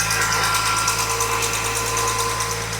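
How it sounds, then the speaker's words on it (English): Jeep engine with an exhaust leak idling steadily, a continuous close mechanical hum with a fast, fine ticking running through it, no voices. "Definitely has an exhaust leak somewhere."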